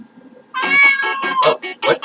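A cat meows repeatedly in the video game Changed, a run of several drawn-out, tonal meows close up and loud, each one wavering and trailing into the next.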